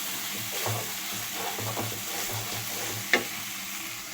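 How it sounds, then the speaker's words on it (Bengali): Slit green chilies stirred in a hot frying pan: a quiet, steady sizzle with soft rhythmic thumps of the spatula and one sharp clink near the end. "কাঁচা লঙ্কাগুলো আর এবারে এটাকে ভালো করে নাড়তে চাড়তে থাকবো"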